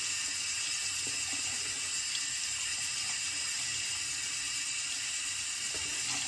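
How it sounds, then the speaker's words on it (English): Water runs steadily from a tap as a shaving brush is rinsed under it, making a loud, continuous hiss and splash that fills the whole stretch with no voices. "Let me rinse off this brush so you can see it better"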